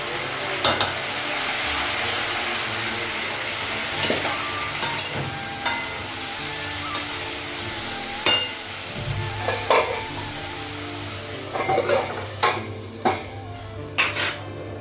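A fish head fries in a pan with onions, making a steady sizzle throughout. Scrapes and clinks of a utensil stirring against the pan break in repeatedly, close and clear.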